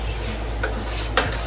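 Vegetables and eggs stir-fry in a skillet for chicken fried rice, giving a constant broad hiss of sizzling with a couple of sharp utensil scrapes and taps against the pan, close up and steady, no talking.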